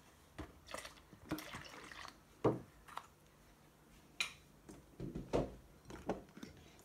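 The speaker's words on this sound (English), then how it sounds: "Next, pour in a splash of milk." Milk splashes and trickles into a homemade potion mixture in short bursts, with a few soft clinks of a container, close and fairly quiet, no talking.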